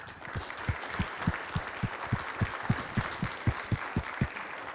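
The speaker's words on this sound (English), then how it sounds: "If we can give a round of applause" A small group at a high school college signing ceremony claps in a steady, rhythmic pattern, with roughly two claps per second standing out above a softer background of scattered applause.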